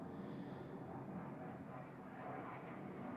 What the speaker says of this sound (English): Don't mind the airplanes in the background.